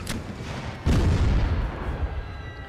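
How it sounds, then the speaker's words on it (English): Heavy field artillery shells land in a First World War strategy game: a small burst, then one deep, booming impact that rumbles and slowly fades. No voices. "I think that's our large artillery shells coming in from the field artillery"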